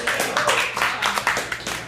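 A comedy club audience claps and cheers after a joke, with loose bursts of clapping rising and falling over a short span.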